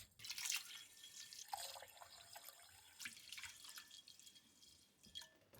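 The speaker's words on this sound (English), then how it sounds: "First, rinse the rice." Short-grain rice for sushi rice is rinsed in a bowl under running water, soft splashes, drips and swishing close by, faint and intermittent, with no talking.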